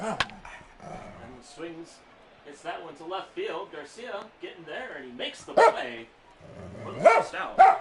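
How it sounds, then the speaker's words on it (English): A dog barks in a few short, sharp, loud bursts right beside the microphone while a man keeps up play-by-play commentary on a baseball video game. "Doesn't help if you have a dog barking very close to your microphone."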